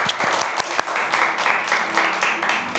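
An audience claps steadily at an end-of-year holiday gathering, a dense, even wash of applause lasting a few seconds with a few sharper individual claps standing out.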